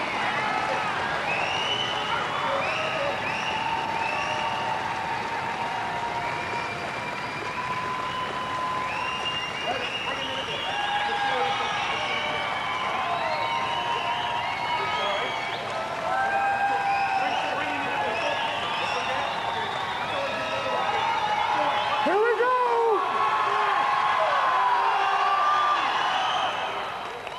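Crowd at a Scandinavia versus Canada strongman team event in 2001 applauding and cheering, a loud, sustained wash of clapping and whoops throughout, with an announcer's voice talking over it.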